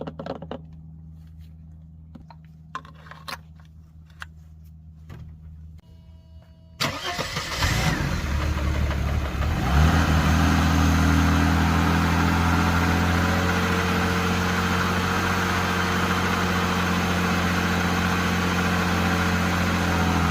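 A classic car engine with freshly replaced valve cover and oil pan gaskets cranks and catches about seven seconds in, after some quiet clicks. It then settles into a steady, loud, close idle as it warms up, with no talk over it.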